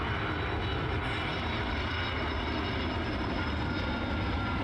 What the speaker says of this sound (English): That's an airplane.